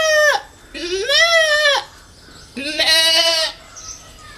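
A man imitates a goat's bleat with his voice, giving three long, wavering, nasal cries close to the listener, each separated by a short pause.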